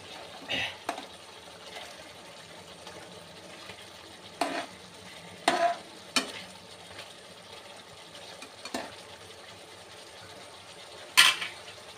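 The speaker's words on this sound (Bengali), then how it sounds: "ডিম রান্না হয়ে গেছে, অফ করে দিব চুলো।" Spicy egg bhuna cooks in a pan. A faint, low sizzle runs underneath while a spatula scrapes and knocks against the pan in scattered bursts, with quiet gaps between them.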